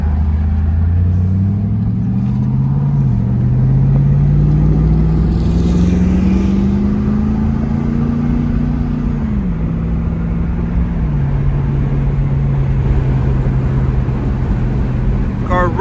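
A 1999 Pontiac Firebird Trans Am WS6 with its LS1 V8 pulls hard on the road, engine pitch climbing through the gears with a drop at each shift, loud and close throughout.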